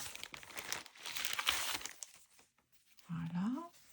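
Game cards being handled, with close crinkling and rustling of paper or card for a couple of seconds, then a short pause before a voice speaks briefly over it.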